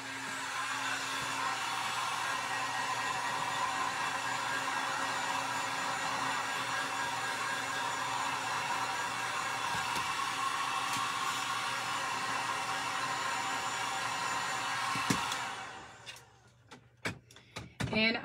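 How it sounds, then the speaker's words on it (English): A heat gun blows steadily on a Mod Podge heat-transfer craft sign for a Valentine wreath, a loud continuous whooshing hiss with a faint hum that stops near the end, followed by a few sharp handling clicks. "I think I want to hit this with my heat gun just a little."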